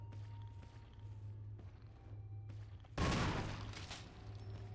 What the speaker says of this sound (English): Well, that's the last of that shotgun